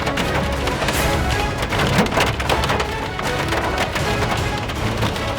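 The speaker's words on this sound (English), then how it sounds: "Whoa, that's a big hail." Golf-ball-sized hail pounding down during a severe storm, a dense, continuous clatter of hard impacts on surfaces, loud and close throughout, with no voices.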